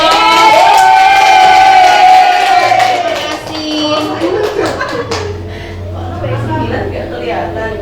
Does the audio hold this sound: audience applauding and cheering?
yes